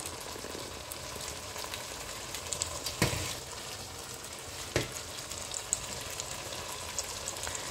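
Oxtail in peanut sauce simmers gently in a covered pan, giving a steady soft sizzle and bubbling hiss with a couple of sharper clinks or pops, close and continuous.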